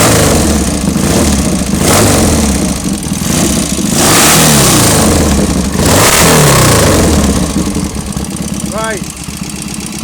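A Norton Ranger 750 motorcycle engine runs stationary, idling loudly close up with a lumpy tick-over and brief blips of revving, while someone speaks briefly over it.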